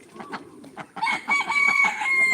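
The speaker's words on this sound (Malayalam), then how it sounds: "കോഴിയൊക്കെ ഫുഡ് കഴിക്കുന്നുണ്ട് കണ്ടില്ലേ" Chickens on a farm cluck and peck while feeding, with close, busy bursts of clucks and calls that build into a dense, loud chorus partway through.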